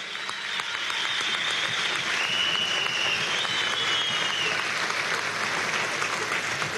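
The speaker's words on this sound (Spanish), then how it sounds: "Un aplauso para nuestros músicos." Sustained crowd applause for musicians at a Venezuelan governors' swearing-in ceremony in Lara, a dense even clapping that holds strong for several seconds with a faint whistle over it.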